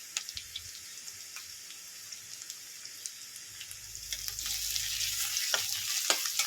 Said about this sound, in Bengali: পেঁয়াজটা আমি বেশি লাল লাল করে ভাজবো না।